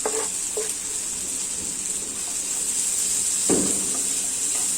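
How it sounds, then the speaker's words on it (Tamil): Chicken and chopped onion sautéing in a pan while a Tamil chicken spring roll filling is cooked, a steady soft sizzle with a few scraping stirs, close and alone. "சேர்த்துட்டு நல்லா வதக்கி விட்டுடலாங்க"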